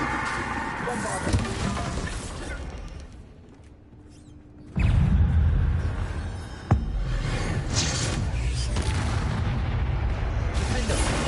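A Bombarda explosion spell in Hogwarts Legacy bursts in with a loud low boom at mid-clip, followed by a sharp crack and sustained rumbling battle noise, after a quieter stretch.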